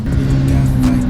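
The four-cylinder engine of a BMW 330e G20 revs steadily nearby, a deep continuous rumble with a few brief rises in pitch, no voices.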